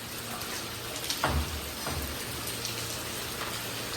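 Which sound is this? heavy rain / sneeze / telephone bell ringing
heavy rain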